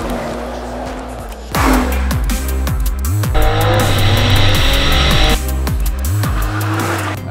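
A Nissan GT-R 45th Anniversary Edition idles, then revs to 4,000 rpm and launch-control starts, engine roaring loudly through rapid gear changes with rising and falling pitch sweeps, close and powerful.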